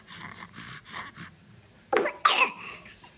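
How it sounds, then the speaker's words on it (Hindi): A small child coughs two sharp times near the end, loud and close. Softer, quiet breathy sounds come before the coughs. "खांसी आई गई, खांसी आई गई भैया हमारे।"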